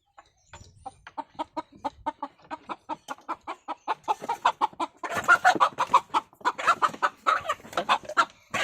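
A country rooster, shut in a coop with hens and ducks, clucks angrily in a rapid, steady run of loud, close calls that grow harsher and denser toward the end.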